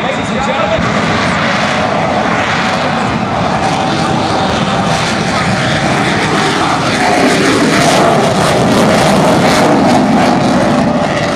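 A four-engine jet aircraft at the Miramar airshow roars loudly and steadily across the runway, its broad engine noise swelling slightly toward the end while an announcer talks over a public address system.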